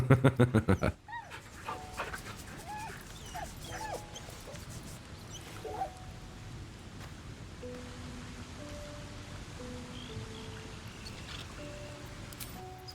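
A dog in the video game Baldur's Gate III gives a burst of loud barks at the very start, then quieter whimpers and small sounds over a steady ambient game backdrop with soft music tones.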